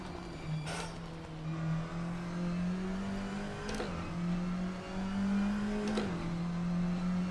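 Racing car engine in Assetto Corsa droning steadily at fairly constant revs while driving, with a few brief shifts or blips spaced a few seconds apart.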